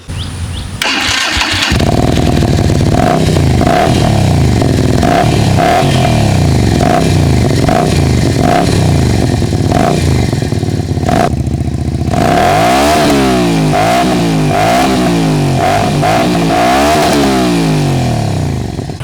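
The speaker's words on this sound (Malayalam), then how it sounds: "അടിപൊളി എക്സോസ്റ്റ് നോട്ടാണ്, ഞാനത് നിങ്ങൾക്കിപ്പോൾ ഒന്ന് കേൾപ്പിച്ചു തരാം." A Keeway K Light 250V motorcycle with a 250cc V-twin engine and double-barrel exhaust starts up close by, settles into a loping idle, then revs repeatedly in blips with a loud, throaty note and no talk.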